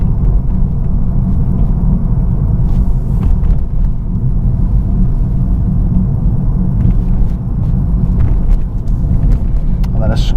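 A car climbing an uphill section in second gear gives a steady, loud low engine rumble throughout, with a voice talking over it.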